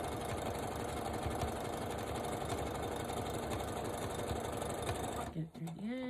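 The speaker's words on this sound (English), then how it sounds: "You just want the sewing machine to feed the material through." A domestic sewing machine runs a zigzag stitch through stretch fabric for a headband, a steady fast mechanical whirring that stops near the end, followed by a brief voice.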